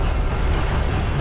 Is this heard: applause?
no